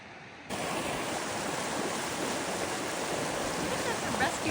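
The Whitewater River rushes along a sandy desert trail as a dense, steady broadband roar that begins abruptly and stays loud and constant, with no other sounds standing out.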